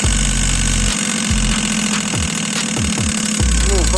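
A BMW 116 direct-injection engine idling at floating revs, a loud close steady hum whose pitch wavers and dips repeatedly, with a voice talking over it.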